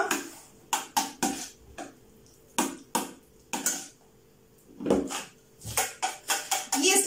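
Homemade cottage cheese being stirred with salt in a bowl, a spoon scraping and clinking against the dish in irregular close bursts with quiet pauses between.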